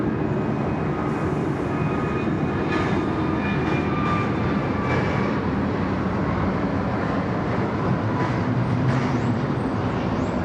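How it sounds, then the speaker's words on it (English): An Airbus A321neo departs Sydney Airport, a loud continuous jet engine roar with broadband rumble and faint whining tones that stays steady throughout. "Let's enjoy the A321 Neo departure."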